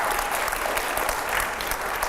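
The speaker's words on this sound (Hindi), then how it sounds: "जोरदार तालियां हो।" Enthusiastic applause from a studio audience at a televised editors' discussion show with a swami, a thick continuous clatter of clapping that stays loud and steady throughout.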